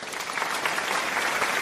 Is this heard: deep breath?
no